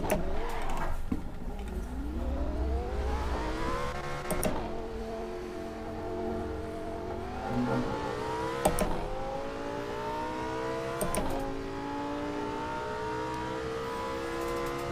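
A Lamborghini V10 in the Assetto Corsa racing game revs hard through repeated upshifts, each gear rising in a smooth climbing whine before a sharp shift break, loud and continuous.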